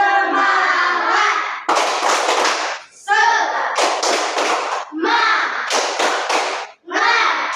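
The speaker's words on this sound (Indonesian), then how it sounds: "Ayo, sekarang kita mau tepuk semangat." A class of children does rhythmic 'tepuk semangat' clapping, loud and close, in short repeated bursts of claps, with children's voices chanting along between and over them.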